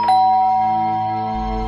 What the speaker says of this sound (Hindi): उनके रूम की घंटी बजी।